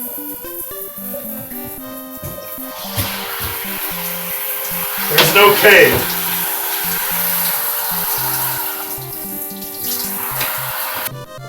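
Rushing waterfall from the NES game Crystalis, a steady 8-bit hiss of noise beneath plinking chiptune melody lines, with a brief surge of louder noise midway and someone speaking briefly over it.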